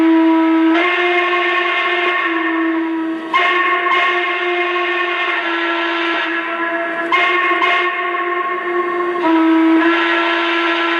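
Steam whistle of a Lionel N&W 2-8-8-2 Y6b model locomotive, a loud chime-like tone held in long blasts with brief breaks, sounding alone and close.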